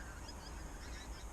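A large flock of pink-footed geese honking on a frosty marsh at morning, a faint, continuous distant chorus of overlapping calls with no talk.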